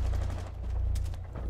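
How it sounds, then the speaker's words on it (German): MP5 submachine gun firing in Rainbow Six Siege, a quick burst of rapid shots heard at moderate distance beneath steady low background rumble, with no voices. "mit der MP5 hat er mir jetzt nur einen Headshot reingedrückt"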